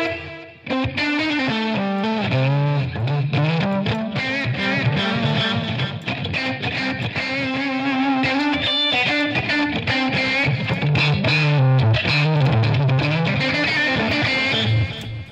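Electric guitar played through a virtual amp simulation with heavy distortion and added reverb, a sustained, thick melodic line ringing out loud and alone for the whole stretch.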